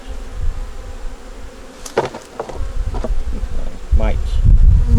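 Honey bees hum steadily in an opened hive with a low, continuous buzz, broken by a few sharp clicks and taps.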